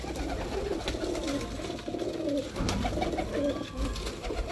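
Pigeons coo softly in low, rolling calls that repeat through the clip, heard over faint background noise without talk.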